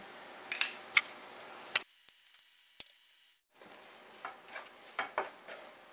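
Chicken filling for kozhi ada sizzles in a pan as it is mixed, with soft squishy stirring scrapes and a few sharp clicks, close and fairly quiet, briefly cut off by a near-silent gap.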